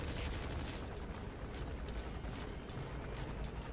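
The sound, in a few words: distant gunfire in the video game Metal Gear Solid V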